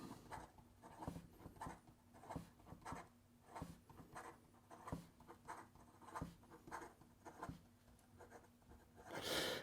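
FPR Himalaya v2 flex-nib fountain pen writing quickly on paper with normal pressure, a quiet, close scratching and tapping of strokes in a quick irregular rhythm, no voices.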